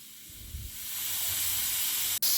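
A pressure cooker on a home kitchen stove vents steam in a rising, hissing rush that grows louder and brighter, then cuts off abruptly near the end.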